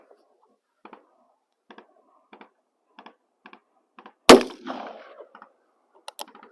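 A small Wells Fargo cap-and-ball revolver is cocked with a series of soft, evenly spaced mechanical clicks, then fires one sharp, loud shot with a brief ringing decay, followed by a few faint clicks.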